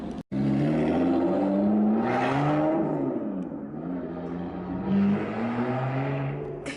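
A Lotus Evora, the one-off James Bond edition, is reversed down a ramp at a dealership, its engine revving and rising in pitch in smooth swells, close and fairly loud with a brief cut near the start.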